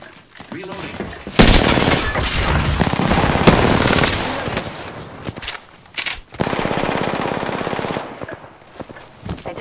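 Rapid automatic gunfire rattles loud and close in a squad shooter match, bursts of continuous shots broken by short pauses, with a voice speaking in places.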